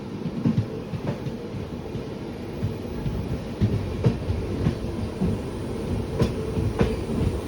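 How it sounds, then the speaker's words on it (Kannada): A weekly superfast express from Shivamogga to MGR Chennai Central rumbles past on the opposite track while the listener's train stands stopped, giving a steady close roar with rhythmic clicks of wheels over rail joints. "ವೀಕ್ಲಿ ಸೂಪರ್ ಫಾಸ್ಟ್ ಎಕ್ಸ್ಪ್ರೆಸ್ ನೋಡಿ, ಇದು ಶಿವಮೊಗ್ಗ ಟು MGR ಚೆನ್ನೈ ಸೆಂಟ್ರಲ್ಗೆ ಹೊರಡುತ್ತೆ. ಈಗ ನಮಗೆ ಅಪೋಸಿಟ್ ಬರ್ತಾ ಇದೆ."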